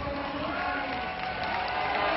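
Spectators at a bouldering world championship in Arco, Italy cheer and applaud continuously, a dense distant roar of the crowd.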